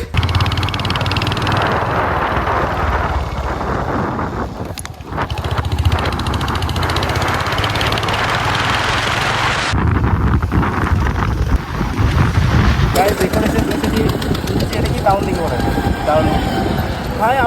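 Steady motorbike engine drone and rushing wind noise while riding, continuous and loud throughout, with a brief dip and some talking mixed in.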